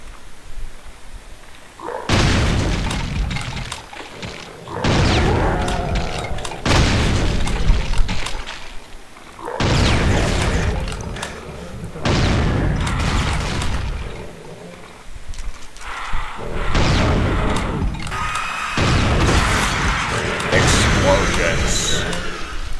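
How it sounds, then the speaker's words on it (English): Explosions boom repeatedly in the first-person shooter Doom 2, a series of loud bursts in irregular succession with gunfire and game noise, while someone talks over the action throughout. "Explosions."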